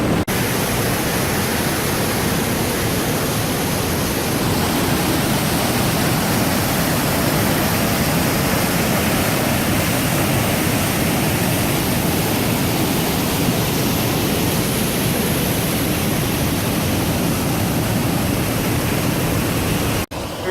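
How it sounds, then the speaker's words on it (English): A waterfall pours over rocks along a river in a Vancouver Island rainforest, a loud, steady, broadband roar that stays constant and close for the whole stretch, with no voices. "you want to make sure you don't get sucked down this waterfall"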